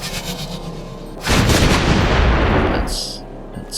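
Burst of loud gunfire from shooting at a shield symbol in the PC video game Soul Axiom, a dense crackling volley lasting about a second and a half before fading, with a sharp tone after.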